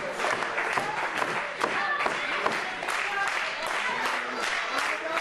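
Crowd at a wrestling show cheering and applauding in steady waves, with scattered claps and shouts throughout and a commentator talking over the noise.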